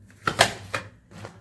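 Tarot cards shuffled and drawn by hand, a few short papery flicks and slaps up close, fairly soft, with no voices.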